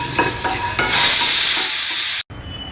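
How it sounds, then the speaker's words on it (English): Groundnuts dry roasting in a pan, stirred with a loud rasping, hissing scrape that swells into a steady dense rustle before cutting off abruptly, close-up and without talk. "Dry roast the groundnuts till you are able to remove the peel."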